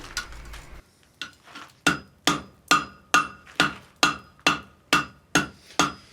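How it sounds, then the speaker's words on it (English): A hammer rings on hot steel against an anvil horn while forge welding and rounding the end of a chain link: a few quick light taps, then a steady series of about a dozen sharp, bright metallic strikes, close and alone. "We move over to the horn of the anvil to complete the weld and form the rounded shape on the end of the link"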